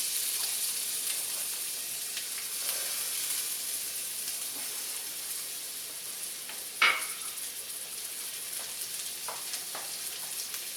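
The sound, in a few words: onions frying in canola oil in hot stainless pan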